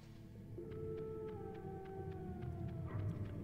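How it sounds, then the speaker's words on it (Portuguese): Several dogs howl in long, wavering tones in the Metal Gear Solid video game, set against a steady low game rumble with faint repeated ticks; no voices. "Aqui sempre tem esses cachorrinhos pra encher o saco."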